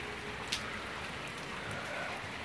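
Heavy rain pours steadily in Antalya during a downpour, a dense, constant hiss close by with one brief louder tap near the start and no voices.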